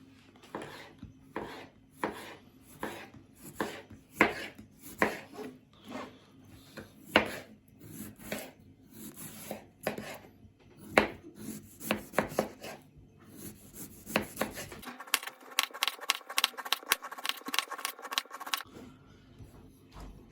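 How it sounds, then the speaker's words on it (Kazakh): Young cabbage is finely chopped with a knife on a board, a steady series of close, crisp thuds and rasping cuts that speed up into rapid chopping near the end, with no talking. "Жақсылап ұсақтап тураймыз."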